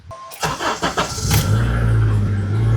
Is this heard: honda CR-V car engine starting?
yes